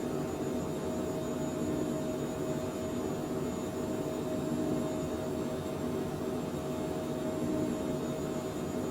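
Steady, even jet engine roar of a Phenom 100 light business jet taking off in Microsoft Flight Simulator 2020, a continuous broadband hum holding constant and moderately loud throughout with no talk over it.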